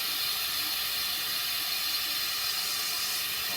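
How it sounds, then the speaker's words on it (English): A loud, steady hiss of steam vents from an Instant Pot pressure cooker's release valve while pulled pork cooks, continuous and close throughout with no talking. "I'm gonna release the steam on this thing."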